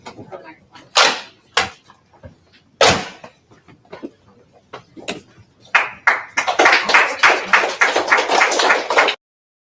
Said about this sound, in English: Why are we clapping for this?